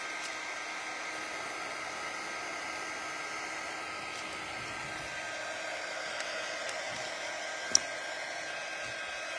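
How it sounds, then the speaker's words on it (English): A hair dryer blowing to dry a missed spot, a steady whooshing motor hum held throughout, close and even, with one small click near the end and no talking. "So we're gonna just give this a quick dry."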